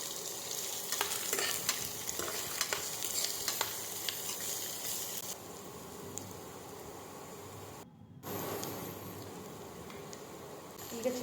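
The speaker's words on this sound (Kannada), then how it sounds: "ಒಂದು ಈರುಳ್ಳಿನ ಕಟ್ ಮಾಡಿ ಇಟ್ಕೊಂಡಿದ್ದೆ ಅಲ್ವಾ ಸಣ್ಣದಾಗಿ, ಅದನ್ನು ಕೂಡ ಇದಕ್ಕೆ ಹಾಕಿ ಚೆನ್ನಾಗಿ ಫ್ರೈ ಮಾಡ್ಕೊಳ್ಳಿ" Chopped onions with curry leaves frying in a pan for dhaba-style masala rice, a steady close sizzle with occasional stirring scrapes and clicks, broken by a brief gap partway through.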